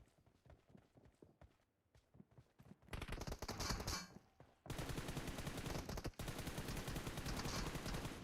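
PUBG Mobile gunfire with the weapon set to single-fire mode, a loud, sustained string of rapidly repeated in-game shots, preceded by quieter footsteps and game ambience.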